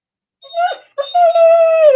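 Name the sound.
dog whimpering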